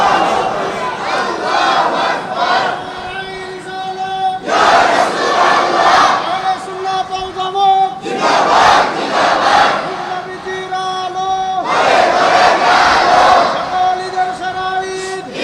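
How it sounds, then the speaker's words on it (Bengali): Large crowd at an outdoor Islamic religious sermon (waz) roars a chanted response of Nara-e-Takbir in loud, full-voiced bursts, three or four big swells rising and falling in a repeated call-and-answer rhythm. "আর একটু জোরে নারে তাকবীর"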